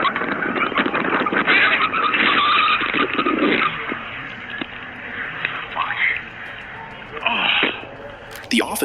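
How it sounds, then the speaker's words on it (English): A stolen police car tears along in a high-speed chase, with engine roar and tire screeches loud and up close for several seconds, then easing off before a brief renewed surge, with talk over the top. "She was pursued by several cops in a high-speed chase that lasted over 75 miles."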